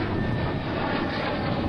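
A restored military trainer airplane in a Russian demo-team paint scheme flies at the 2004 NAS Oceana airshow, its engine a loud, steady, broad roar that holds unbroken throughout with no voices.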